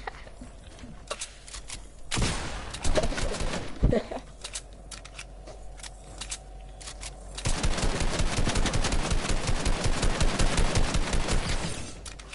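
Rapid automatic gunfire from the video game Fortnite, a dense sustained burst filling the last few seconds after scattered earlier shots, with players talking over it at times.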